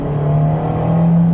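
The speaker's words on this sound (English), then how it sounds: "Most of the noise you're hearing right now is not the exhaust, it's the engine noise." A small four-cylinder car engine hums close by at a steady moderate rev around quarter throttle, a continuous droning tone with no talking.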